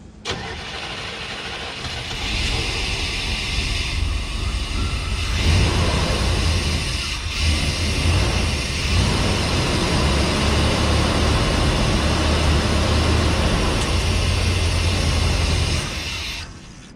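A 1992 Chevy OBS Sport truck with a lowered rear cranks and fires up for its first start, then settles into a loud, steady idle that runs close and continuous until it is shut off near the end.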